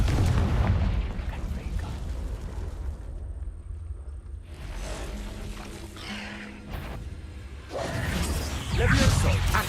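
The Confringo blasting spell detonates in the video game Hogwarts Legacy, with whooshing casts and booming explosions that open and close the stretch, separated by quieter combat noise and some talk.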